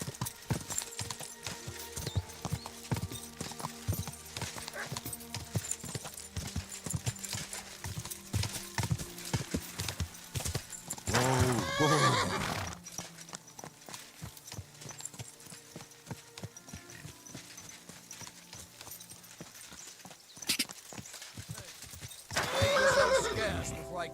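Horse hooves clip-clop and a horse neighs twice in Kingdom Come: Deliverance II, the whinnies loud and close over game music and clattering, with someone speaking in the scene.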